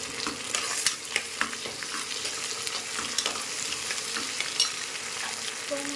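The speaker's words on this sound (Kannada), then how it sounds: "ಇವಾಗ ಸ್ವಲ್ಪ ಶುಂಠಿ ಬೆಳ್ಳುಳ್ಳಿ ಪೇಸ್ಟ್, ಒಂದು 2 ನಿಮಿಷ ಫ್ರೈ ಮಾಡ್ಕೊಳ್ಳಿ" Ginger garlic paste frying in a pan while cooking biryani, a constant sizzle with occasional stirring taps and scrapes.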